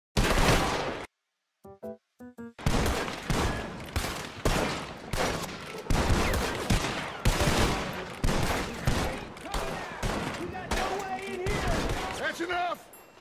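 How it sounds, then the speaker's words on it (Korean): Repeated shotgun blasts from Bill and Charles firing double-barrel shotguns as warning shots during a train robbery in Red Dead Redemption 2, a dense, loud volley of overlapping booms that runs on continuously after a brief pause with a few clicks. "기차의 위협 사격을 할 때 빌과 찰스는 더블베럴 샷건을 들고 쏩니다."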